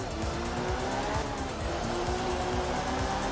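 Ford Escort rally car drifting in the video game Art of Rally, a loud continuous engine roar with tire squeal and gravel skid through a controlled slide, close and unbroken.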